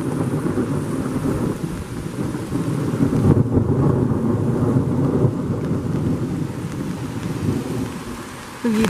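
A deep rumble of thunder rolls on steadily beneath heavy rain and gusty wind buffeting the microphone during a thunderstorm, loud and sustained throughout.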